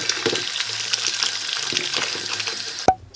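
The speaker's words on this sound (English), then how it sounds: "We're gonna put this in some hot water real quick." Hot water pours steadily from a tap, a broad hissing splash lasting a few seconds before cutting off abruptly with a clunk.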